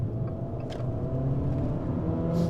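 An Abarth F595 T-Jet accelerating with a steady, loud, close engine drone that gradually builds as it revs, heard from inside the small hatchback.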